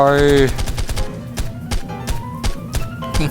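Gunfire from the mobile version of ARK Survival, shots fired down into water. A short tonal sound gives way to a string of sharp, separate shots at an uneven rhythm, each about a second apart, over a low game background.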